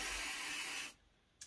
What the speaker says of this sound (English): I'm holding it here with my hands and spraying downwards